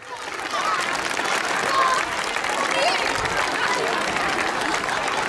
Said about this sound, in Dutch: Daarom een hartelijk applaus voor zijn majesteit de koning en hare majesteit de koningin.